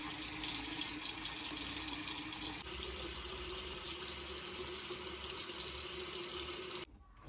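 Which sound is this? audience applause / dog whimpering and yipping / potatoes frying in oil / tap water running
tap water running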